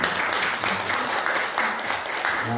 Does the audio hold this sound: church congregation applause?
yes